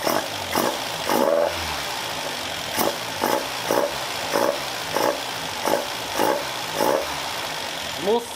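A Caterham Super Seven's engine, freshly repaired, revs repeatedly in short sharp blips over a steady idle, with a voice talking in between.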